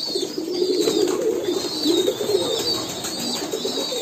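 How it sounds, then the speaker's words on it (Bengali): Pigeons at a pigeon farm bathing in water bowls, with soft throaty cooing repeating close by over a low background rustle, with no people talking. "দেখুন খুব সুন্দর করে গোসল করতেছে কবুতরগুলা।"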